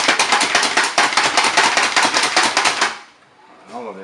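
Small hand-pulled manual chopper dicing pineapple pieces into small cubes, a fast run of sharp, even chopping clicks close up for about three seconds, then it stops and a voice briefly speaks.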